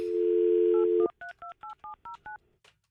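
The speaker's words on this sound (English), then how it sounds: "I'm calling the Princess Trimline phone, which is tucked underneath my side of the bed." A steady landline dial tone cuts off, then a quick run of seven touch-tone beeps is punched in evenly, close and clear, with no talking.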